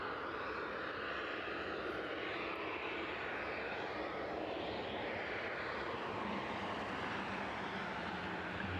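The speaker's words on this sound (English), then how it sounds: "the cargo jet 767 touching down and taxiing in now, inbound from Cincinnati this evening" A Boeing 767 cargo jet touching down and taxiing at East Midlands Airport at night, heard as a steady, distant engine roar that stays fairly faint and unbroken throughout, with no voices.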